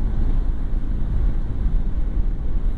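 Strong wind roars steadily across the microphone while riding a motorcycle, a continuous close low buffeting with no one talking.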